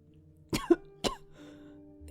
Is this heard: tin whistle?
no